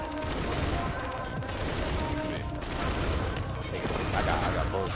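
Rapid gunfire from the top-down cyberpunk shooter Ruiner, with dense bursts of shots and crashing impacts filling the whole stretch at a steady, loud level.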